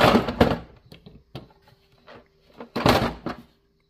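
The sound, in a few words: toolbox socket drawer opening or closing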